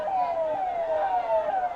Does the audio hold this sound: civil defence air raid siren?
yes